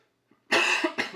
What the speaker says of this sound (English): And I'm also coughing.